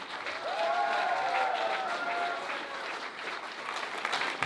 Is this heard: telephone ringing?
no